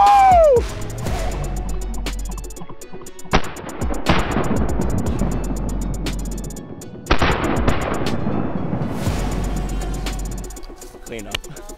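Shotgun shots fired during an upland game bird hunt outdoors, heard as several loud, sharp booms with ringing tails spread across the clip, with people talking and calling out between them.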